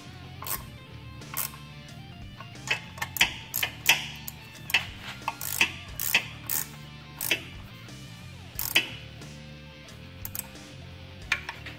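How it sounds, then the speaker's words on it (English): Tightening bolts by hand on a turbo oil supply line on a 2010 Camaro LS3/L99 produces a faint, irregular series of close metallic ticks and clicks from a ratchet, spread over a quiet shop background. "After we get these two bolts tight here, we're going to go on and tighten these last four."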